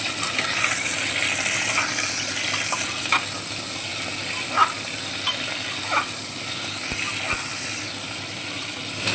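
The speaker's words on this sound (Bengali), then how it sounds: "এবারে আমরা কেটে রাখা আলুগুলো তেলের মধ্যে দিয়ে দেব। এবারে তেলের মধ্যে একটু নেড়ে চেড়ে ভেজে নেব।" Cut potatoes fry in hot oil for khichuri while being stirred, a steady close sizzle with occasional clinks and scrapes of the spoon against the pan.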